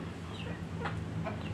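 Brahma and Siamese cross rooster clucking close by in a backyard poultry pen, giving a few short throaty clucks in quick succession over a steady low background hum.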